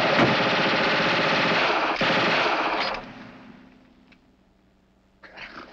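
Sustained loud machine-gun burst in a 1950 comedy film set in the Foreign Legion, rattling continuously for about three seconds with a short break, then fading away, followed by a brief return.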